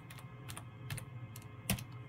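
Keys clack on a computer keyboard as commands are entered into a 3Com 4200G network switch, a quick run of separate keystrokes heard close but faint over a low steady hum.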